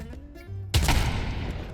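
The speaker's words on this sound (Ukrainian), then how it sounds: "Воно гранатами стріляє." Gunfire in the Counter-Strike 2 VR video game: a sudden loud burst of shots or an explosive blast erupts after a quieter stretch, then rings on densely to the end.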